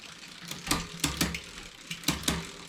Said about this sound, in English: Now we're going to attempt to shift up to the highest gear and see if the L screw is too tight to allow it to shift.